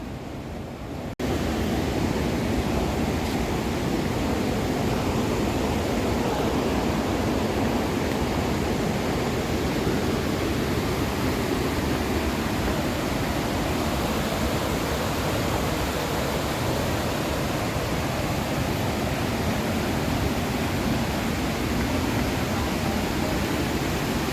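Lulugayan Falls in Samar pours in a steady, loud, broadband roar of falling water that holds constant throughout, with no voices heard over it.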